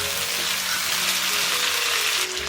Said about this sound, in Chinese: 煸炒到这个鸭肉有点点焦斑，让我们淋入料酒去腥